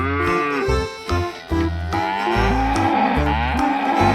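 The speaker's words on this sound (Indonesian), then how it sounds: "Wah, ada sapi perah di sini teman-teman." A white dairy cow with black spots moos loudly and close, a long, deep, drawn-out call with a brief break partway through, heard alone.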